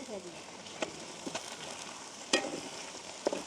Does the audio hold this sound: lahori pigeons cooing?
no